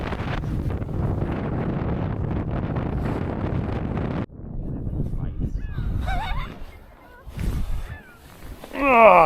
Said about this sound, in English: see how bad the wind was. It's pretty choppy out here.